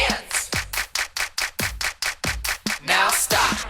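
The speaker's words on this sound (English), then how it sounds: "And everybody clap your hands." Hands clap together in a steady, even beat at a gospel worship song, about four claps per second, loud and close, with a singing voice and music carrying underneath.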